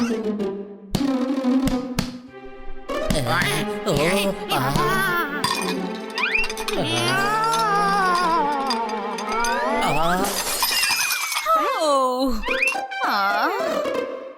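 A chandelier breaking indoors after being struck by a ball, with bright glassy clinks and ringing tones ringing out amid animated cartoon voices and music, busy and loud throughout.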